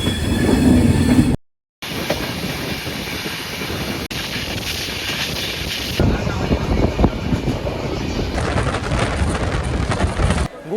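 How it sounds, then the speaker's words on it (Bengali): A train pulls out of Sealdah station, its steady rumble and rattle of carriages loud and close throughout, briefly cut out near the start, with wind buffeting the microphone and occasional wheel squeal and clatter. "একদম রাইট টাইমে আমাদের ট্রেন ছেড়ে দিল শিয়ালদাহ স্টেশন থেকে"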